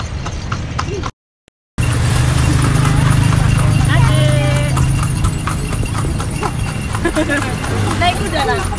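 Horse hooves clip-clop in a steady walking rhythm, close and clear, with people talking over them and a short dropout near the start.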